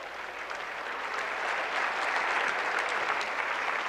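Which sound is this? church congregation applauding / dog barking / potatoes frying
church congregation applauding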